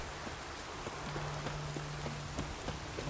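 Horse hooves clop at a running pace in the video game The Witcher 3, with regular rhythmic hoofbeats under a steady rain hiss and a faint low hum.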